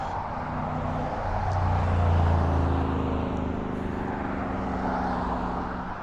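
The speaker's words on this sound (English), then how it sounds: "Traffic looks quite light right now." Car traffic rolls past near the 69th Street Pier in Brooklyn, a loud, broad engine-and-tire rumble that swells toward the middle and slowly fades, with no talk.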